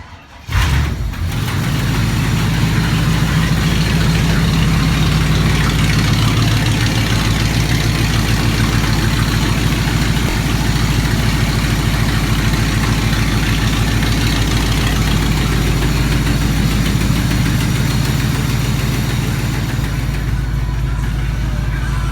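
A 1995 Chevrolet Caprice 9C1 engine cranks and catches with a quick burst, then settles into a loud, steady, rumbling idle that runs on without talk.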